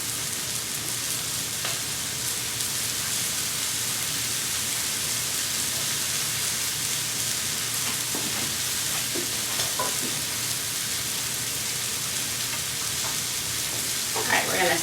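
Shrimp fry in a hot pan with a dense, constant, close sizzle throughout. Faint scrapes and shuffles of stirring surface now and then beneath the hiss.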